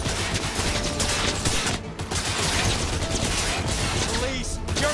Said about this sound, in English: You're shooting at police!